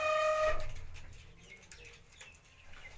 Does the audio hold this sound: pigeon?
yes